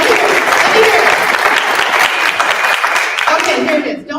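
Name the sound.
audience clapping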